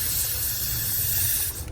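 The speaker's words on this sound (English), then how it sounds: "So we'll start by spraying onto the chain here, just at the sprocket," Cleaner sprayed in a steady, continuous hiss onto a motorcycle chain at the rear sprocket, close and loud for the whole stretch, cutting out briefly near the end.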